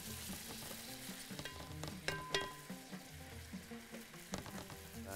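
Garlic and onion frying in a pan while being stirred, with a close, crackling sizzle broken by several sharp scrapes and clinks of the utensil, uneven in rhythm and fairly quiet, with no talking.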